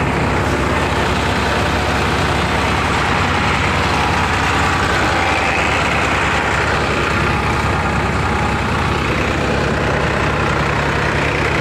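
A Sonalika DI 42 RX tractor drives a four-fan Surjeet paddy thresher, its engine a loud, steady, continuous rumble with a dense mechanical roar and no break or pause, and no speech over it.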